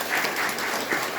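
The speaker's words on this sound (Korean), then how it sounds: "우리 서로에게 경례의 박수 한번 부탁드립니다." A church congregation applauding during a Sunday Mass sermon, a soft, brief patter of clapping heard from a distance.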